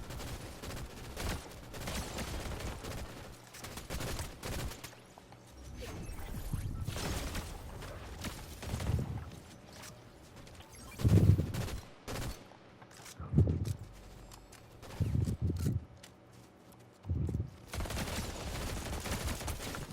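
Bursts of gunfire from the video game Fortnite, a mix of pistol shots and rapid volleys in clustered bursts over about twenty seconds, punchy and close with quieter game ambience between them, no talking.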